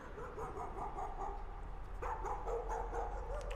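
A dog barks a few times in the horror video game Layers of Fear, the short, muffled yelps sounding distant and faint above a low ambient drone.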